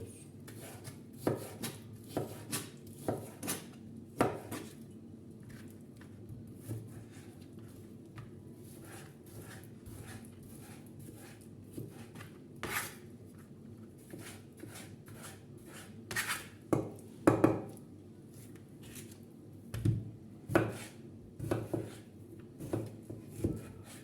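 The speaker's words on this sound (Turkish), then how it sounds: "Aynı şekilde diğer göğsümüzü de doğruyoruz." A knife chops chicken breast into cubes on a cutting board, sharp irregular taps in quick clusters with short pauses, close and fairly quiet.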